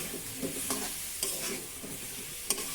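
Cumin, coriander, ginger paste and green and dried chilies fry in oil with a steady close sizzle, punctuated by a few sharp spatula scrapes and taps against the pan.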